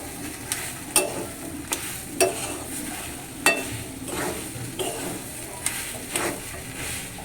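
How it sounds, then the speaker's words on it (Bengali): Vegetable chop filling being stirred with fried spices in a pan, repeated scraping strokes and spoon knocks over a soft sizzle, close by with no voices. "এবার এটা দিয়ে ভালো করে আর একবার ভালো করে নাড়তে হবে"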